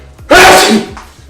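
A single sharp human sneeze bursts out close and loud, short and explosive, followed by a faint breath afterward in an otherwise quiet setting.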